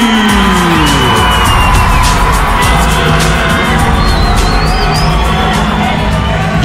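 A lucha libre wrestling crowd in an AAA arena in Ecatepec roars, cheers and whoops continuously, with a loud, dense wall of voices and scattered shouts throughout.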